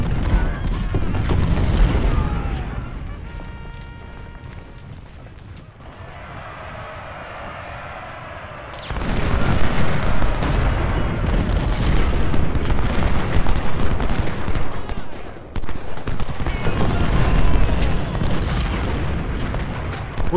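Cannon artillery fire in the Civil War strategy game Ultimate General: Civil War, with heavy booming volleys and rumbling blasts that come in waves, a quieter stretch in the middle, then renewed loud barrages.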